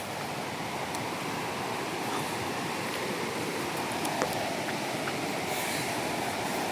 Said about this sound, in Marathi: धबधब्याचा आवाज आला असेल तुम्हाला.